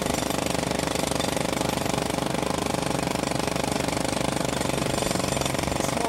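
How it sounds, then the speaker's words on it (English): A jackhammer pounds in a relentless, dense rapid rattle, loud and close, holding steady for the whole stretch with no pauses and no voices. "There was a jackhammer going on."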